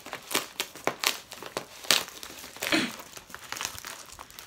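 Crinkly plastic crumpling and tearing in a series of sharp bursts, close up, as a padded mailer is handled and pulled open.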